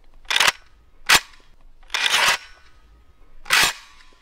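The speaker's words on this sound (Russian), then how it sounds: "Вот это прям сейчас первый мой выстрел с этой пушки." Single shots from a Kalashnikov assault rifle in a ranch video game, four sharp, loud reports spaced irregularly with brief quiet between them and no talk.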